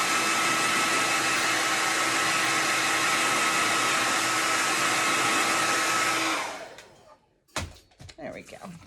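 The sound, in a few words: hair dryer drying a painted Easter egg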